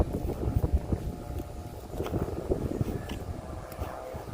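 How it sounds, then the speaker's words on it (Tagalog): Strong wind buffets the microphone in low, gusty rumbles that rise and fall unevenly, loud and close, with faint background sounds underneath. "sa lakas ng hangin."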